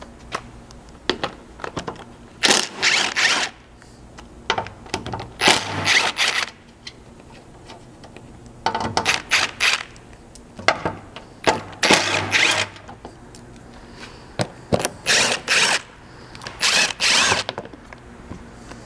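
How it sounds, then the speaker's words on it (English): Bursts of a power tool and a 10mm socket ratchet removing the splash guard screws on a 200 Series Land Cruiser, loud, close whirring runs separated by pauses and metallic clicks. "Those are going to be 4 screws that can be removed with a 10mm socket"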